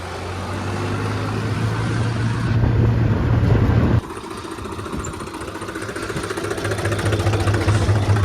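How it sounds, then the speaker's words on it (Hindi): Two farm tractors set out for a paddy field, their engines idling and running in a steady, loud drone that jumps in pitch partway through, with no talk over it. "दोनों ट्रैक्टर लेके निकलते हैं"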